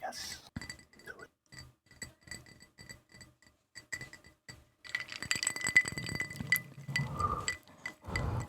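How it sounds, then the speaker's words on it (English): Sharp glass clinks tap out a run of separate strikes, followed by busier rattling and clinking of glass with a voice speaking briefly near the end, all close and intimate. "Wait, you guys want some glass sound?"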